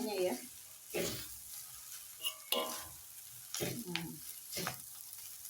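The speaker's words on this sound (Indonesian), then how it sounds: "Kita akan aduk." Food frying in a large wok is stirred with a spatula: a low sizzle runs throughout, broken by about six bursts of scraping and clattering at irregular intervals, close and moderately loud, with no speech.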